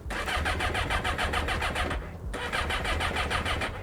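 A Yamaha XJ600 motorcycle with a throttle cut-out fault starts up, a close, loud rapid engine chatter that breaks off briefly and picks back up, no voices.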